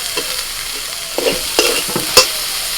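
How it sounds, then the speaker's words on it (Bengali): Turmeric and red chilli powder stirred with chopped tomato frying in a pan, with a soft steady sizzle broken by several distinct scrapes and taps of the spoon, the sharpest near the end. "হলুদ গুঁড়ো লাল লঙ্কার গুঁড়ো একটু নাড়াচাড়া করে নিয়ে দিচ্ছি টমেটো কুচি"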